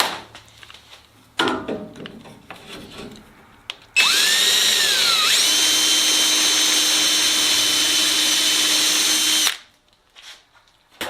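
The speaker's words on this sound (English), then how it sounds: "I'm going to run the drill down through this hole to make sure it's lined up properly and drill through the bottom of" A power drill whines steadily for several seconds while boring through a hole into the forward fuselage of a Sonex homebuilt aircraft, loud and close, after a few brief handling noises and a short spin-up.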